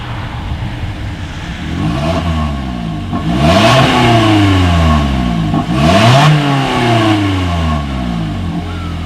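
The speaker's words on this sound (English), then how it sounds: "here is that exhaust clip." A 2020 Toyota Corolla exhaust roars through a few sharp revs, each climbing quickly and dropping back to a steady idle, loud and close.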